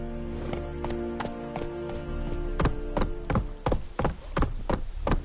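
Roach, the horse in The Witcher 3, trots with steady, close clip-clopping hoofbeats in an even rhythm over a sustained musical backdrop.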